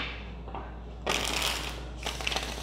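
Tarot cards shuffled by hand in two brisk bursts of riffling and rustling, close and fairly loud, with quieter handling between them and no talking.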